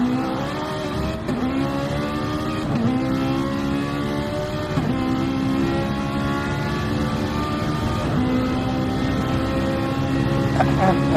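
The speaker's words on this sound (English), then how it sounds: "Let's hear that Ferrari engine" A Ferrari race car engine in a DTM Mini Series race roars steadily and loud, its pitch climbing through repeated gear shifts, with commentary talking over it.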